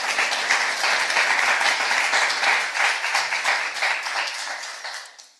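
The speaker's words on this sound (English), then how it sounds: "can we all give a big round of applause to Dr. Sinead Walsh, who will be giving us her opening address." Audience applause at a climate action panel: steady, dense clapping from a crowd that holds for several seconds before tapering off at the end.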